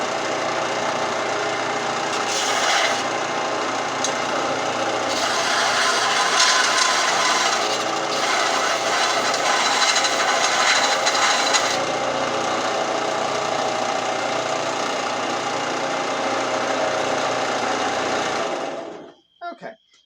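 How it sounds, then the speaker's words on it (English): An angle grinder works solder off the seam of a forged metal ring, a loud, continuous whirring grind that runs for nearly twenty seconds, wavers slightly in intensity, then stops abruptly. "Okay, so I just ground some of the solder off the seam."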